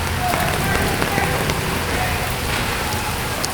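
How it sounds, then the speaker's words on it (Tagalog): Heavy, unrelenting rain pours steadily during flooding, a dense hiss of drops drumming on surfaces, constant and close throughout. "Grabing ulan, ayaw tumigil"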